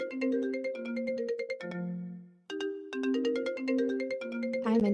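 A phone ringtone plays a bright, repeating melodic pattern of quick electronic notes, loud and close, with a brief pause midway before the tune resumes.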